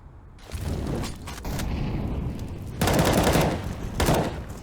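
Pistols fire in a Counter-Strike match, a dense, continuous clatter of loud shots with heavier bursts near the end, close and sustained, with no speech over it.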